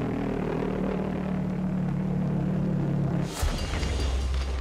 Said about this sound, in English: Londoners call it the doodlebug named after the sound of their jet engines, which make a distinctive rumbling noise.